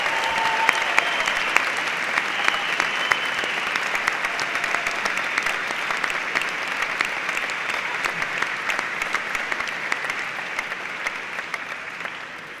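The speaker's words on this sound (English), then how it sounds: "We have been clapping you forever this morning" A large audience at a University of Kent graduation ceremony claps steadily and continuously, a dense, even wash of applause with no voices.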